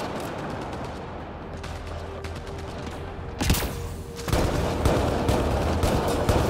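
Gunfire in the sci-fi shooter Mass Effect: Andromeda: a dense, noisy wash of combat sound with faint rapid shots, then two louder blasts that leave the battle louder and busier.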